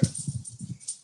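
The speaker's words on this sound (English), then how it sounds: "that's my dog." A dog whimpers close by in a series of soft, brief whines and snuffles, fairly quiet, with no one talking over it.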